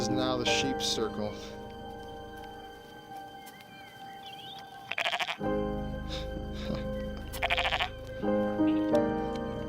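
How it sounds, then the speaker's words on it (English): Sheep bleat in a pen near an abandoned cemetery, several calls rising through a busy outdoor scene with people talking nearby and a low hum beneath. "This is now the sheep circle."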